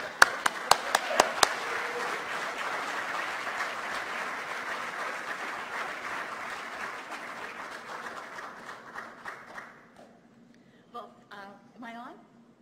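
An audience claps to welcome a lecturer at a university lecture, starting with a few sharp separate claps that swell into steady applause, then fading out as a voice begins.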